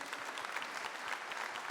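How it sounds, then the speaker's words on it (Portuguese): Applause from a church congregation during a Portuguese-language sermon: a dense, steady clapping from many hands, fairly close and even for its whole short length, with no voices over it. "Pode aplaudir isso em nome de Jesus."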